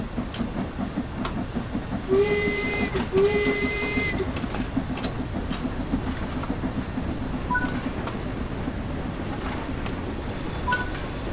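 Steam locomotive in the Train Sim World 5 video game gathers speed, a continuous rumbling chuff under two short whistle blasts early on, with faint clanks later.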